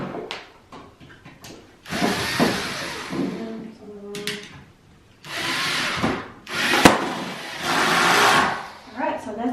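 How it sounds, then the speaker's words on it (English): Power drill bores hinge holes into the wood of an industrial kitchen cart in several bursts, close and loud, with scraping and handling noises between and someone speaking in the gaps. "I hope you guys can see all 3 holes have been drilled."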